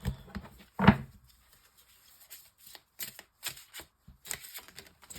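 Tarot deck being shuffled for a twelve-card spread, a close burst of riffling followed by scattered soft flicks and taps of cards.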